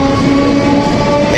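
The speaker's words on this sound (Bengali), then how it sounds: "এই ট্রেনটা এখন বর্ধমান যাচ্ছে, আর এইটা বর্ধমান থেকে আসছে।" Two Bardhaman local electric trains pass each other at Dankuni Junction, making a loud, steady, close rumble and rail roar with no voices over it.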